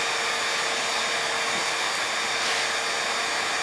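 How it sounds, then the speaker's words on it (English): A 1500 watt heat gun blowing hot air at lithium polymer battery cells, a loud, constant airy whoosh with a steady motor hum, close by and uninterrupted. "1500 watt heat gun."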